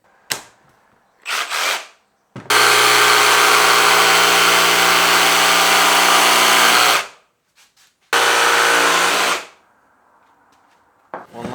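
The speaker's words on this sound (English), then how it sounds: "So what I'm going to do is just jigsaw this out." A jigsaw cuts through a half-inch MDF board, 2 by 4 feet, with a loud buzzing rasp in two long bursts split by a brief pause, plus short starts before and after, with no talking.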